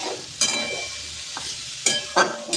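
A vegetarian paneer and vegetable curry with ginger, cumin and coriander cooks in a pan, a quiet close sizzle punctuated by four distinct stirring scrapes at uneven intervals.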